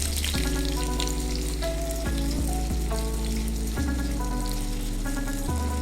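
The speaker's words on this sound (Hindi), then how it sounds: "अब इसमें हम डालेंगे 2 बड़े साइज के कटे हुए प्याज" Two large chopped onions hit hot mustard oil in a pan, giving a steady, close sizzle that runs the whole time beneath instrumental background music.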